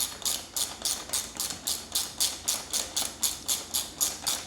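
A 13mm socket or hex wrench ratchets steadily to snug the front caster wheel bolt on a Jazzy Carbon 27X power chair, giving about a dozen close, even clicks with no talking.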